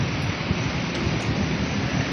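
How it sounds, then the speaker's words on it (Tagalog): Heavy typhoon rain falls in a dense, steady outdoor wash during Typhoon Maymay, loud and continuous with a low rumble underneath and no speech. "Patuloy pa rin siyang umuulan."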